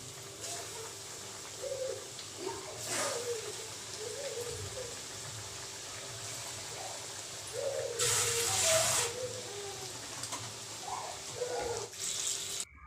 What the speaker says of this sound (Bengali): এবার আমি এই চিকেনগুলোকে তেলের মধ্যে এভাবে একটা একটা করে দিয়ে দেব।